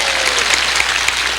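A church congregation claps together during a Sunday worship service, making dense, steady applause that fills the room while a faint voice sounds underneath.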